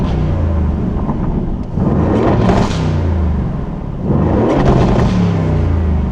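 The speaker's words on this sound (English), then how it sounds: "we hear that V8 fire to life" A warm V8 car engine idles with a steady low rumble, then revs in two swelling bursts with a brief dip between, loud and close with no talk.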